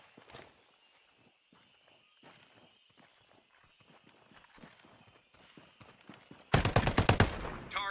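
Gunfire in the tactical shooter game Ghost Recon: quiet footsteps and small shuffling sounds give way to a sudden, loud burst of rapid automatic fire near the end.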